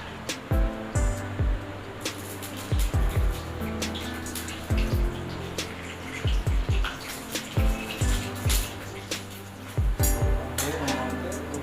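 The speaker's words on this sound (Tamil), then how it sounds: "நம்ம வச்சுருக்கிற கேஷ்யூ நட் அண்ட் கிஸ்மிஸ் இது ரெண்டுத்தையும் போட்டு கோல்டன் ப்ரௌன் கலரில் நம்ம வறுத்து எடுத்துப்போம்" Cashew nuts and raisins fry in ghee in a pan for carrot halwa, with a continuous close sizzle broken by repeated scraping and clinking stirs.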